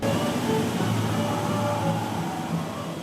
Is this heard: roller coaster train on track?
yes